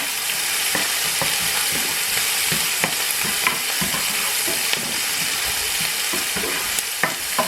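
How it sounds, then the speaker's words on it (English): Onions and assorted seasonings sauté in oil over a high flame, a steady loud sizzle with occasional stirring clicks and scrapes throughout, no talking. "And let this saute real quick"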